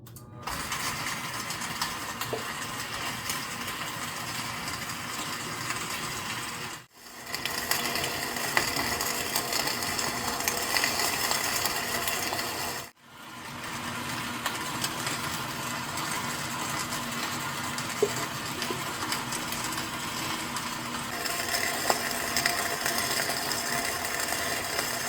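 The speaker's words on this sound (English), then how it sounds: "I'm going to turn on my machine, and then my flour is going to come out from underneath." A KitchenAid grain mill grinds hard red spring wheat into flour with a steady, loud mechanical whir and rattle, running continuously apart from two brief stops.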